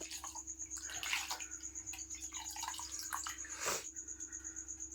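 Vegetables are washed in water, with a steady running splash and a regular pulsing slosh, fairly quiet and close, with no talk over it.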